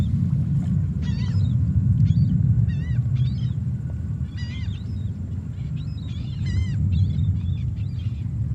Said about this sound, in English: Hear the seagulls?